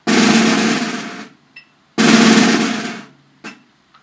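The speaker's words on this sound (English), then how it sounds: "Measure 3, where you have those decrescendo rolls, come back up to forte volume each time." Snare drum plays two sustained rolls, each starting loud and fading away, separated by short single taps, close and alone with no talking.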